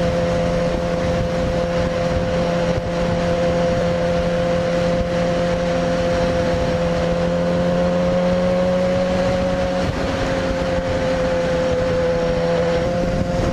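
A Yamaha FZ6R motorcycle cruises at about 65 mph, with a steady, loud engine drone and wind rush heard from the rider's position, unbroken and with no talk.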